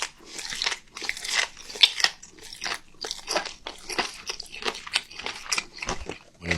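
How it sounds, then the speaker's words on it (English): Crisp, crunchy seaweed eaten close to the mouth in a mukbang, with repeated sharp crunching bites and chewing in an uneven rhythm, loud and alone without talk. "the seaweed is cut in the perfect size. Crunchy, but not like hard to eat."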